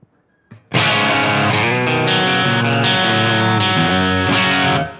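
Electric guitar played through a Line 6 Helix Cali Rhythm 2 amp model with a little reverb: a few sustained, heavily distorted chords ring loud and saturated, then cut off.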